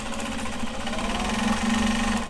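A sewing machine stitches through webbing on slick, slippery fabric for a traveller sling, giving a dense, steady mechanical hum with a sustained low drone, close up and running without pause.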